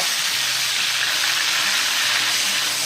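Tauco, a fermented soybean paste, is stir-fried in a hot pan, giving a loud, dense, unbroken sizzle and hiss close up with no talking.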